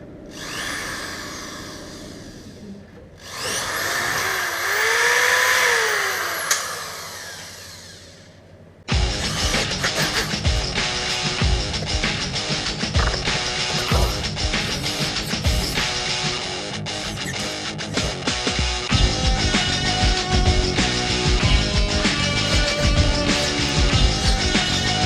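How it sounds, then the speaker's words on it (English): A power drill boring holes into the body of a Peugeot 205, with a brief rising whine and tool handling early on, then sustained loud grinding drilling that runs steadily to the end, close and alone. "I'm going to drill the rest of the holes"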